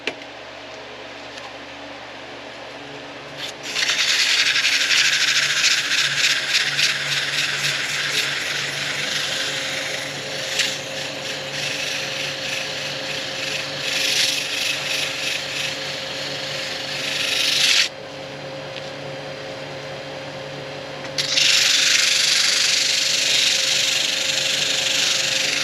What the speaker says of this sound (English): this stuff just sands as smooth as can be